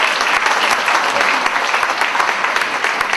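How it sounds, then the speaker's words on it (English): A school talent show audience breaks into dense, sustained applause, many hands clapping together loudly and steadily from start to finish. "Let's give a round of applause."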